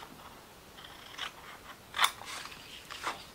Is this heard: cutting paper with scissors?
yes